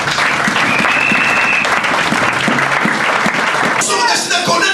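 A church congregation breaks into sustained, dense applause and cheering to acclaim the Lord, a loud continuous crowd roar with scattered whistles, rising in brightness near the end.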